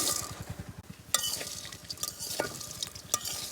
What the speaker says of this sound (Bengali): আমি নুডলস দিয়ে দিলাম তেল গরম হয়ে গেছে